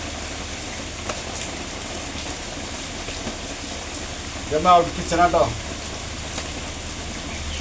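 Steady, unbroken rain pours down as an even hiss that fills the whole stretch, with a person speaking briefly over it midway.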